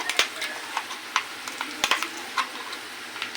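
Ground masala paste frying in hot oil while being stirred, a soft sizzle under a run of sharp, irregular spoon scrapes and taps against the pan, close and alone.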